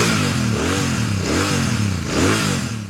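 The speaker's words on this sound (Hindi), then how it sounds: "दिखा देते हैं, सुना देते हैं आपको इसका एग्जॉस्ट नोट इस सुपर मीटियोर" A Royal Enfield Super Meteor 650 motorcycle with its 650 cc twin engine revs up close, the exhaust note rising and falling in repeated throttle blips over a loud idle rumble.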